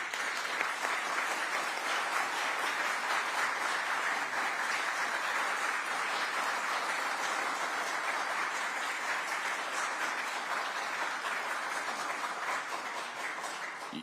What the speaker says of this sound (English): Y'all quit clapping.